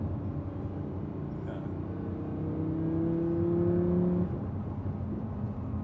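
A 2016 Audi R8 Gen 2 engine winds down through a downshift, a steady interior drone with a rising whine that swells, then drops away.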